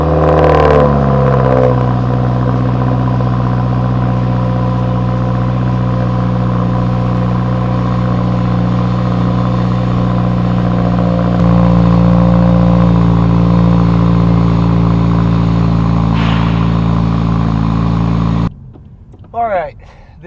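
In-cabin sound of a 2015–2019 Subaru WRX STI with a Carven single-exit rally catback exhaust, stock heads, downpipe and J-pipe: a steady loud engine drone that rises into a rev near the middle, then cuts off.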